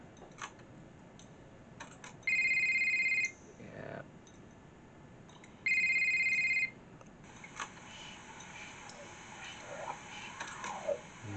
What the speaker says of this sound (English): Probably got like one more phone call, even though it's probably gonna be nothing.